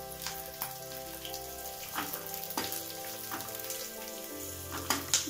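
Onions and curry leaves sizzle and fry in a pan, a steady crackling hiss punctuated by occasional sharper pops and stirring clicks, close and moderately loud with no talk.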